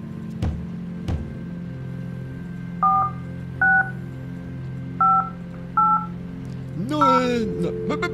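An in-game telephone in the horror game The Guest is dialed: a few clicks, then four distinct dual-tone keypad beeps spaced about a second apart over a low hum, followed by a short rising electronic tone.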